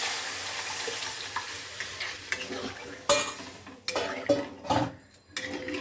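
Black gram dal being added to softened boiled spinach in a pot, heard as close clatters, splashes and scraping of a spoon against the vessel over a low simmering hiss, in irregular bursts.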